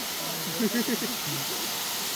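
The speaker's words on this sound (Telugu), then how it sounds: "యాక్చువల్గా రణపాడు అనే ఒక వాటర్ ఫాల్స్కి అయితే వచ్చాం" Ranapadu waterfall in Araku, a constant rushing roar of falling water, with a voice talking briefly over it.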